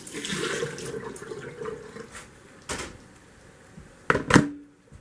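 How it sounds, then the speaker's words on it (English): Water bubbles and hisses in a pot at a boil, then a few distinct splashes and clunks as potatoes drop in, close by. "I'm going to just put my potatoes right down in this boiling water"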